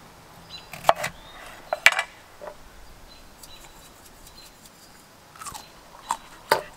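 Crunchy bites and chewing of raw Giant Kossak kohlrabi, a few sharp crisp bites close to the mic with quieter chewing between them, no talking.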